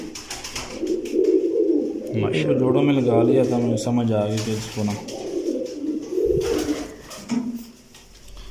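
Pigeons coo close by in a loft, a run of soft rolling coos in the middle of the stretch while someone talks over them throughout.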